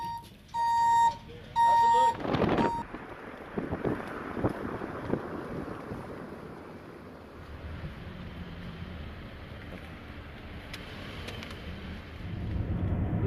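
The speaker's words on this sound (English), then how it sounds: "The alarm has gone off" Two short bursts of steady electronic beeping at the start, followed by wind buffeting and rumbling motor noise with a few faint voices.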